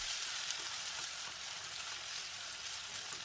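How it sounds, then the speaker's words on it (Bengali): Onion and a paste of radhuni and black pepper fry in a pan, giving a steady, soft hissing sizzle that holds evenly throughout with no talking. "নেড়ে চেড়ে কিছুক্ষণ ভেজে নিয়ে"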